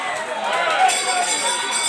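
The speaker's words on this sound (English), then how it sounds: "Can I get some cheers from the audience? Cheer both fighters on." Audience at a boxing fight night keeps up a steady roar of cheering and crowd noise, dense and continuous throughout.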